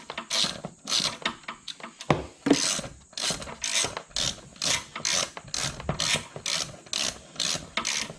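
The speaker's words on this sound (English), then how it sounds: "20-inch ratchet." A 20-inch ratchet tightens a nut on a car's brake master cylinder, giving a close, steady run of rapid clicking pawl strokes in regular back-and-forth bursts.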